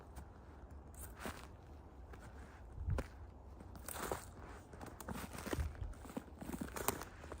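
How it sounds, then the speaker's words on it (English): Footsteps crunch on a dry trail in Rouge National Urban Park, a slow, irregular series of close, crisp crackling steps over quiet outdoor background with no talking. "You could hear the crunching."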